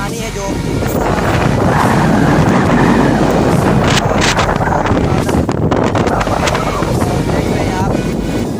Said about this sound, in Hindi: देख रहे हैं आप, तो बहुत ही तेज हवा है